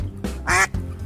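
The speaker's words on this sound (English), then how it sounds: "Duck." A duck quacks in a single loud, nasal burst close up, with quieter background sound before and after on a farm-animal sounds recording.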